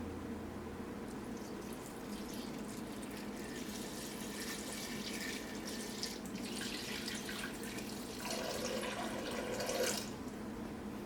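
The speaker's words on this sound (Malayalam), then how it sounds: "ഇതിലേക്ക് വെള്ളം ഒഴിക്കുക." Water pours steadily into a cooking pot holding tomatoes, green chilli and coriander leaves for tomato soup, making a soft, continuous rushing splash at close range with no talk.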